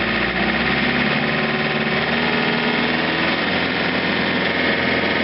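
A John Deere 110 TLB running a snow blower revs steadily, a loud, close, continuous engine drone that holds high throttle throughout.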